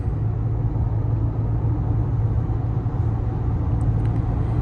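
A 2022 Toyota RAV4 Hybrid LE driving at half throttle, heard from inside as a steady low rumble of engine and road noise, even and unbroken.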